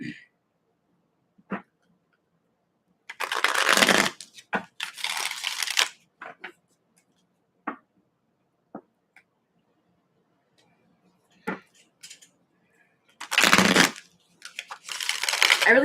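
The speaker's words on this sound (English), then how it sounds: "I really hope my shuffling isn't loud for you guys." Tarot cards shuffled in quiet bursts, each a papery riffle lasting a second or two, with soft taps and card handling in between; close and fairly loud, no talking.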